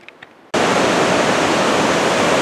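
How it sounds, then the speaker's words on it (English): The Ohanapecosh River near Silver Falls at Mt Rainier rushes in a loud, steady, broadband roar that starts abruptly after half a second of near quiet and holds unbroken to the end. "And we're back over to the Ohanapecosh River."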